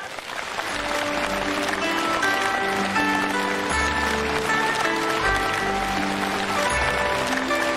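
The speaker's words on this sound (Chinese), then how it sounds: "现在让我们用最热烈的掌声恭请尊敬的卢军宏台长。" A very large crowd at a ten-thousand-person Buddhist gathering in Kuala Lumpur breaks into loud, sustained applause that swells in at the start and holds steady, with music playing underneath.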